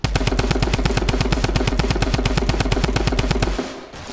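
A Tommy gun fires in Fortnite, a loud, steady automatic burst of rapid, evenly spaced shots lasting several seconds before cutting off abruptly.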